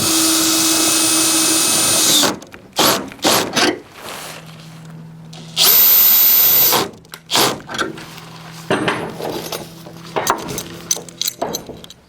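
Power drill with a special socket driving a fixing into a roof during asbestos removal and insulation renovation, with a long whine, short stop-start bursts, a high-pitched screeching run and scattered clunks nearby.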